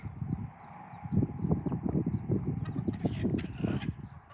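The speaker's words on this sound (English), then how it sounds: "There's about 6 hens sitting on eggs inside of that coop." Low, throaty clucking from a group of hens at a coop, overlapping murmurs close by with a few higher chirps mixed in.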